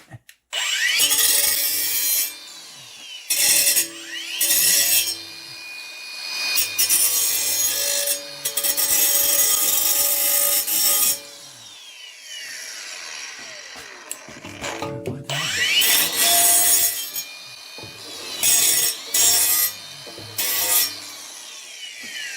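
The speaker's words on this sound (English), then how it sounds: "let's get the grinder on it, clean all that out." Angle grinder cleaning metal on the exhaust of a 2008 Dodge Nitro during an engine change, loud harsh abrasive grinding in long bursts with brief pauses, close up and alone.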